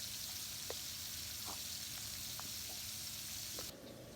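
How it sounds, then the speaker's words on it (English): Beef sears in a pan for beef bourguignon, giving a faint, even sizzle with a few soft crackles, quiet and continuous with no talking. "Sear the beef until you get some nice color on each side."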